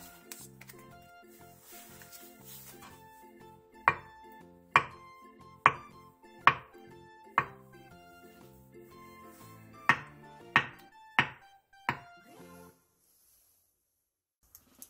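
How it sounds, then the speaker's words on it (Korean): A knife slices one soft tofu into 2cm-thick pieces on a cutting board. About nine crisp, evenly spaced taps stand out clearly over faint background music. "순두부 1개를 2cm 정도 두께로 잘라주세요."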